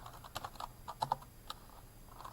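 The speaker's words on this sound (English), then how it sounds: "I'm just typing the data values in." Calculator keys tapped in a quick, uneven series of light clicks while data values are entered, close and fairly quiet with no talking.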